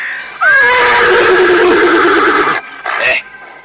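A horse gives a loud, close whinny lasting about two seconds, then a shorter snort-like follow-up. Its rider is mounted in an outdoor scene.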